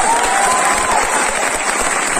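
A crowd applauds teachers at a Patna meet-up event with dense, steady clapping that stays loud and close for the whole stretch, with no break.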